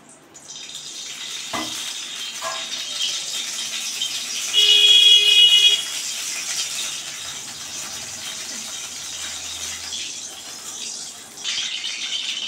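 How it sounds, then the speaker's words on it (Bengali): White cooking oil goes into a hot kadai and hisses with a broad, close sizzle that holds steadily, briefly swelling louder midway. "এখন সাদা তেল দিয়ে দেব"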